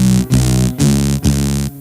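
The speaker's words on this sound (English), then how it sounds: "Okay, and I've got a saw wave," A saw wave from a BOSS SY-300 guitar synthesizer pedal blares loud and buzzy, with three low chords cut off by brief gaps between them, heard alone.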